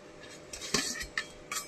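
Mutton being mixed with yogurt in a bowl, heard as close, crisp clinks and scrapes of a utensil against the dish in short bursts, with a wet stirring texture between them and no speech.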